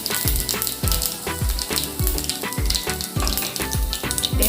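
Panch phoron spices crackle and sizzle in hot mustard oil for an Assamese roasted moong dal curry, a loud, close frying hiss broken by regular scraping stirs, with no talking.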